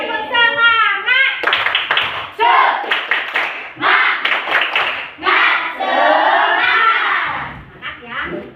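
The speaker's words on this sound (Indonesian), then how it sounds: "Oke, tepuk semangat." A class of children in an Indonesian classroom claps in a quick rhythmic pattern, chanting along loudly between the claps.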